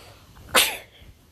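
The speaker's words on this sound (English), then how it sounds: "Next time I'll sneeze, I'm definitely gonna pause the recording." A single sharp human sneeze bursts out close and loud, then fades quickly into quiet background.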